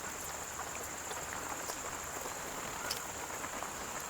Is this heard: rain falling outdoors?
yes